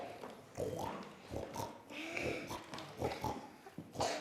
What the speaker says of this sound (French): C'est des cochons! Oui, c'est 2 petits gorets.